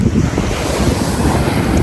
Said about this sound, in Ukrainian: От третій день тут хвилі.